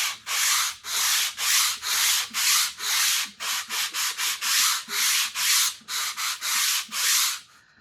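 A wooden back strip for a steel-string guitar is sanded by hand in a rhythmic series of close, raspy strokes, about a dozen and a half of them, with no talk.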